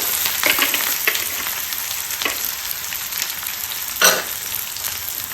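Chopped onions frying in oil for a methi greens dish, a steady close sizzle with a few sharper crackles and one loud hiss burst near the end, no talk.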